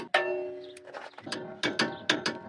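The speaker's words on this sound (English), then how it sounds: "we'll go ahead and get our caliper bracket bolts torqued down" A torque wrench tightens the rear caliper bracket bolts on a 2015 Toyota Tundra to 68 foot-pounds, giving a few sharp metallic clicks and ratcheting clacks, close and fairly quiet.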